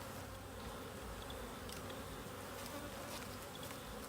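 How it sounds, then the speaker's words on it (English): A dense swarm of honeybees buzzes steadily and continuously around a hive, a close, constant droning hum with no talking. "A lot of bees in this hive."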